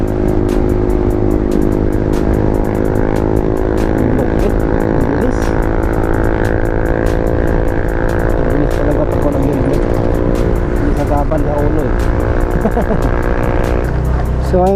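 Loud scooter engines from a Honda Beat and a Yamaha Aerox run close and steady, with a constant droning hum and wind rush throughout, pitch rising near the end as they accelerate.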